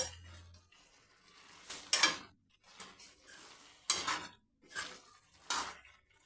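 Bottle gourd greens stirred in a cooking pot on high flame: a string of distinct scraping and clattering strokes of a utensil against the pot, about five louder bursts with quiet gaps between, close by and without voices.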